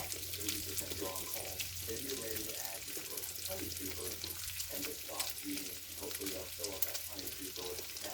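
Food frying in a pan and being stirred, bacon among the cooking, with a steady hiss of sizzling fat throughout and faint scraping stir strokes beneath, continuous and moderately loud.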